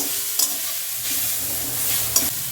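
Grated coconut cooking in a wok for palm pulse pudding, a continuous sizzle with spatula stirring and two brief scraping clinks against the pan.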